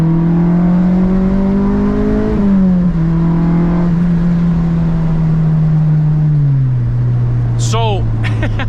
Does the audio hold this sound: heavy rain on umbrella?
no